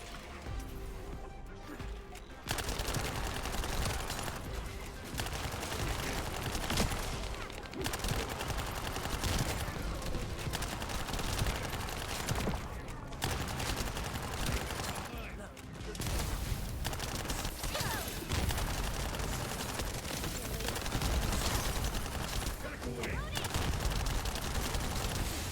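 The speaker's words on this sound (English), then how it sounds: "Here's our special machine gun." A special machine gun fires in a video game: dense, continuous rattling bursts roar on for long stretches, broken by a few brief gaps, loud and close, with speech mixed in.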